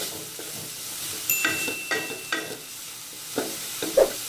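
Coriander leaves cooking slowly in oil in a pan with a little salt, giving a soft, steady sizzle close by, broken by several light stirring scrapes and clinks.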